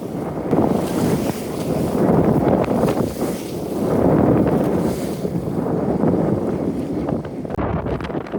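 Stormy wind and waves on the Bay of Bengal surround a fishing boat, a loud, continuous roar of gusting wind and surging water that swells and eases in waves, with heavy wind buffeting close by.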